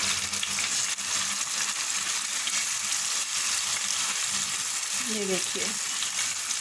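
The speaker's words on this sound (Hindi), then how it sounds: "और पैन के पैंदे में ऐसे हिला देंगे सारे पीस" Spicy chicken pieces fry and are stirred around the bottom of a pan, giving a continuous loud sizzle with faint scraping. Someone briefly speaks near the end.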